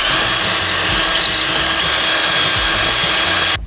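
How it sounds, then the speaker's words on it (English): Power drill boring holes into wall studs to mount a wall storage rack, one continuous loud close whir that stops abruptly at the end. "Now I'm going to use my drill the holes in."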